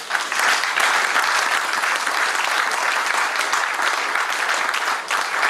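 A church congregation applauds steadily during a French-language sermon, a dense, continuous wash of clapping at close range that holds for several seconds before easing slightly at the end.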